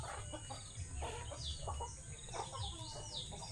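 Chickens cluck and murmur in short bursts around a backyard fence, moderately close, over a steady low rumble of background noise with a few higher bird chirps.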